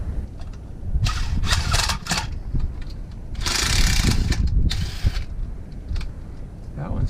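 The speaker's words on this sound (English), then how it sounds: "I'm gonna try to see if these new screws they gave me will go in better." Screws being driven into a Parallax ATS301 30-amp RV transfer switch, bursts of whirring, grinding driver noise in several runs, close and fairly loud.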